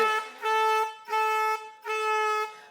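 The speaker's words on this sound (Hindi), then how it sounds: "तुमने ये हॉर्न तो बजा दिया" Three loud, steady horn blasts, each held for about half a second, separated by brief gaps, sounding close and alone.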